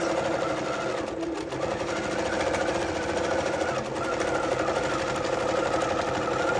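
A quilting machine running an edge-to-edge pattern over embroidered fabric, producing a continuous rapid mechanical stitching whir with a slight dip after a second, close and fairly loud throughout.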